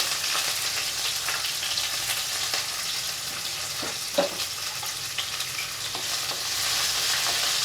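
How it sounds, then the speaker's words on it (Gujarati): Chopped green chillies and a piece of ginger sizzle steadily in hot oil, close up, with occasional stirring scrapes in the pan. "અને તેલમાં સાતડી લેવાનું છે."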